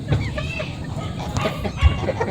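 Young hens cluck and murmur close by in a backyard flock, soft irregular calls with a few louder bursts, under light background activity.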